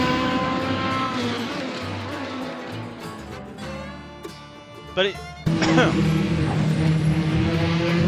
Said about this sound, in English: you can sort of hear the sounds of the engine and then understand why it's so bloody difficult to drive